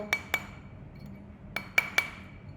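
Silver bezel ring being worked over a metal mandrel, five light, sharp metallic taps in two small clusters, close and clear against a quiet background.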